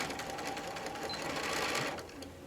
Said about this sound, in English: So we're going to do a back tack.